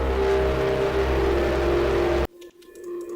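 A synth note pushed through distortion and reverb into a resonant, noisy drone that holds loud and dense, then cuts off abruptly, leaving faint ringing resonant tones.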